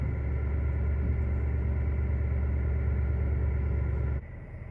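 A 2024 Duramax Denali pickup's diesel engine holds about 800 RPM in drive, giving a steady, loud, low rumbling drone that cuts off abruptly near the end.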